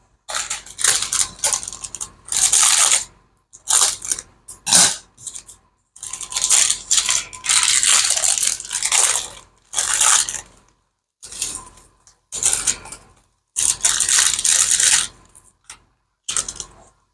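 Cracker packaging is torn open and crackers are crushed. Loud, crisp crinkling and crunching comes in repeated bursts with short pauses between them, close up and with no talking.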